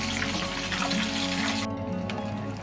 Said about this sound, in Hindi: अब इसको हम उलट देंगे, फिश को दूसरी तरफ पका लेंगे।